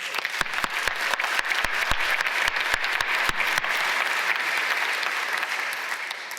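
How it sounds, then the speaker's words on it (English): Audience applause for class leaders at a tech conference, a dense wash of many hands clapping under a few sharp claps up close, steady for several seconds before fading slightly. "Let's give them all a round of applause."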